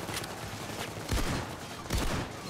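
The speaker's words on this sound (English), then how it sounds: "I could just sit here and shoot these guys the entire day" Gunfire crackles in the PayDay 2 heist game, a rapid, moderately loud volley with two heavier bursts of shots close together and no talking.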